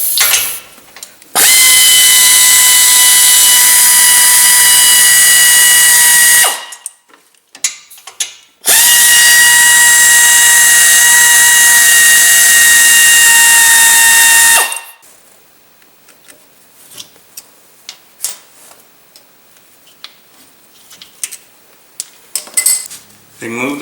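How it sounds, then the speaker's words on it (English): Brake caliper bolts come off the front hub of a 2007 VW Jetta during wheel bearing work. Two long, loud bursts of whining power-tool ratcheting last about five seconds each, separated by a short pause, followed by scattered quiet clanks. "Remove the brake caliper bolts."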